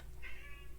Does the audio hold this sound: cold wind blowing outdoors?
no